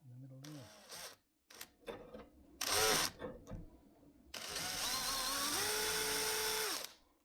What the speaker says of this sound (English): position the handle and drill pilot holes top and bottom